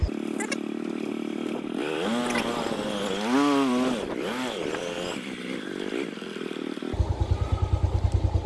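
A motorcycle engine climbs uphill on a forest route, revving and shifting pitch as it strains, loud and close, then settling into a steady pulsing idle near the end.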